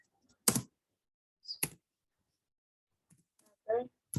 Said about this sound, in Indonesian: jadi cara yang pertama yaitu kita harus mengetik judulnya dulu